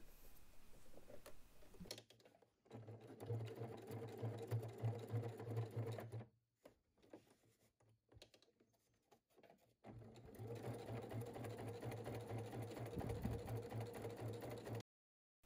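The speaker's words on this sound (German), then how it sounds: "Bis zur Ecke nähen und dann drehen, über das Gurtband nähen und dann zum Ende." A sewing machine drives through thick canvas and over a webbing strap as a bag is assembled, humming steadily in long close runs that are broken by short pauses and a few sparse stitches.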